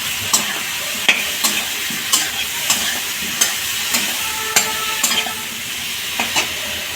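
Ginger paste hitting cabbage frying in a pan, a steady bright sizzle punctuated by regular clacks of a spatula stirring, close and alone with no talk.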